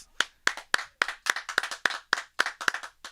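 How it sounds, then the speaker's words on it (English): A small live studio audience at an in-studio music session claps for a performer, about a dozen sharp, separate claps in an uneven rhythm, close and clear with no talking. "Give him a round of applause."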